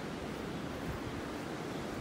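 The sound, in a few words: ocean waves on a beach in North Naples, Florida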